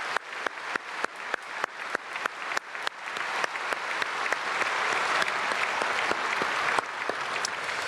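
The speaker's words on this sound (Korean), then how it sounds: "우리 박수로 감사하고 또 축복하겠습니다" A church congregation applauds visiting pastors during a Korean early-morning prayer service, starting with a few scattered, distinct claps that quickly swell into steady, dense applause filling the hall.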